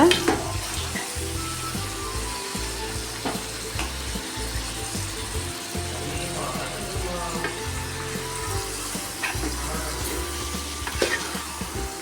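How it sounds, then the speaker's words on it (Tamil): Half a kilo of chicken cooking in masala gravy in a frying pan sizzles loudly and continuously as it is stirred, with rhythmic scraping strokes of the spoon repeating close by throughout. "நல்லா கிளறி விட்டுக்கலாம் இந்த மசாலாலாம் சிக்கனில் பிடிக்கணும்"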